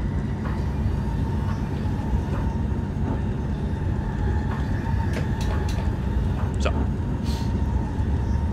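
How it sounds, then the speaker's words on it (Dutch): DM90 Buffel diesel train running in Train Simulator 2017, a continuous rumbling drone with a regular clickety-clack of wheels over rail joints and a few sharp squeaks toward the end. "Een van de traagste treinen die wij hier in Nederland hebben, helaas."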